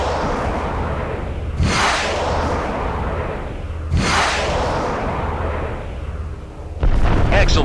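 Harpoon missiles strike and destroy a transport in the space combat game Freespace 2, three heavy booming blasts spaced a couple of seconds apart over a steady, loud engine rumble.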